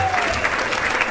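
An audience at a youth sports volunteer recognition breakfast breaks into a brief, steady burst of applause, with a voice faintly present under the clapping.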